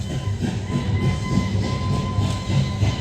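Train sound effect in a light and sound show at the Cellular Jail in Port Blair, Andaman, giving a steady rumbling rail clatter with rhythmic beats and a faint sustained tone, loud and continuous with no pause.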